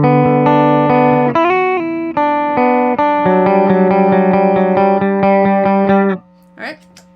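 A clean electric guitar plays through a Walrus Audio Mako R1 reverb pedal: sustained chords, then a run of steady repeated picked notes with a soft reverb tail. The guitar is loud and close, and a brief voice comes in at the very end.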